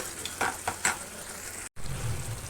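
Puti fish simmering in a spice masala as a little water is added, giving stirring scrapes and a soft sizzle that cut out briefly, then a low steady bubbling.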